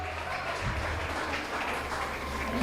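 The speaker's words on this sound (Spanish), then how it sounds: "démosle un fuerte aplauso a las dos" Sustained applause in a church gathering, steady dense clapping from a crowd held at an even level throughout, with no distinct voices rising above it.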